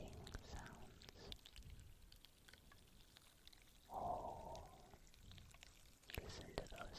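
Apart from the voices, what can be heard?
canned Sprite soda fizzing and popping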